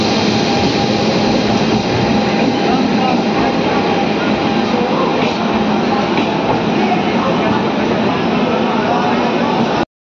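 Steady rumble and rattle of the Netravati Express passenger train departing Lokmanya Tilak Terminus, Mumbai, rolling along the tracks, with voices murmuring faintly underneath, continuous until it cuts off.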